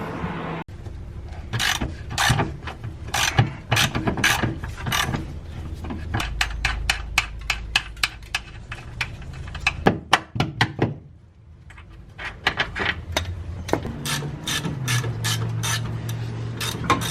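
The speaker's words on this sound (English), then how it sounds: "let's unbolt those right now" Ratchet unbolting suspension arms on a Toyota Starlet KP61, with quick bursts of close, sharp clicking repeated in runs, a short pause midway, then more ratcheting and metallic clunks.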